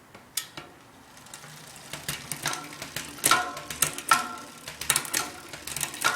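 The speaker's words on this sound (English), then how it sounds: "Now the chain seems to be moving down freely." A bicycle chain shifts down the rear cassette during a derailleur adjustment. Light clicks, rattles and ticks come from the drivetrain, up close, with several sharper clacks as the chain drops between cogs.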